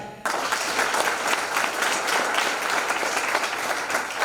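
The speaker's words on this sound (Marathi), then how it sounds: "त्यासाठी टाळ्या" Audience applause at a theatre competition event, bursting in abruptly and continuing as dense, steady clapping from a crowd.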